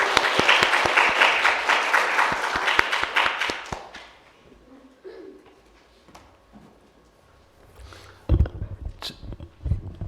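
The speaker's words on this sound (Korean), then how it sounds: "박수로 환영해 주십시오." Audience applause welcoming the first vice mayor at a Changwon children's council policy presentation, brisk clapping that fades out after about four seconds, followed by quiet room noise and a voice over a microphone near the end.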